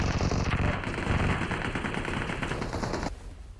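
Rapid automatic gunfire from a battle royale mobile game rattles loud and close as a continuous burst that cuts off near the end.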